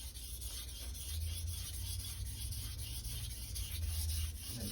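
A 165mm santoku or nakiri kitchen knife is pushed back and forth across a Chosera or Naniwa whetstone, giving a steady, soft, close gritty rubbing under a constant low hum, with no talking.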